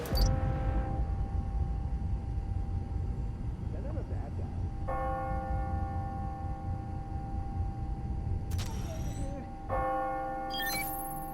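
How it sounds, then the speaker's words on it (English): A large church bell in the video game Marvel's Spider-Man: Miles Morales tolls the hour in several slow, resonant strikes over a steady ambient hum, with long ringing decays between each stroke. "Ringing on the hour. When I hear those bells"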